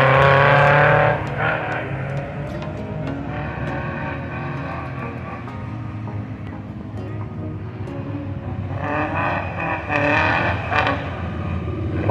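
Modified, lowered Volkswagen Kombi vans race at a King Kombi event in Barra Bonita, engines roaring loudly as they accelerate and pass, swelling at the start and again near the end with continuous engine drone between.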